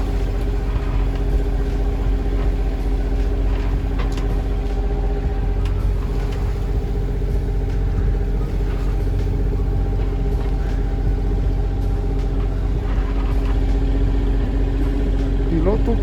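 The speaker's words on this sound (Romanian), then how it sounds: "dar am dat și drumul la motor ca să ajung la timp" A sailboat's auxiliary engine runs at steady cruising speed on a cold day, a constant low drone with tonal hum that continues unbroken throughout, with faint incidental sounds over it.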